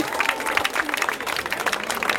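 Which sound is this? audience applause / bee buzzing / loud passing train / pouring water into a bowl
audience applause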